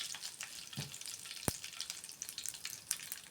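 Mustard seeds, cumin, a bay leaf and a couple pinches of asafoetida sizzle in hot oil, a steady close crackling hiss with a sharp pop and scattered spits.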